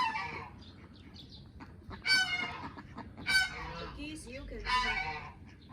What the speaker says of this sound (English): But let's see the geese.